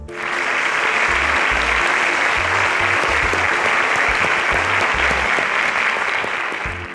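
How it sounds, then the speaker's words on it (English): A large crowd claps steadily and loudly, a dense wash of applause that holds for several seconds without pause. "can we give a resounding round of applause to our sponsor"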